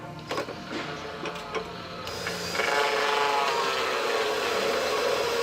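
Power drill boring a 1-inch hole through a Subaru EJ18 oil pan, a steady close whirring grind that builds and holds loud and even for several seconds, with no voices.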